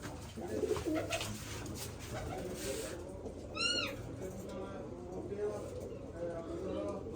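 Pigeons kept for flying call from a rooftop loft on a hot afternoon: brief, scattered calls, fairly faint, under nearby voices and background noise.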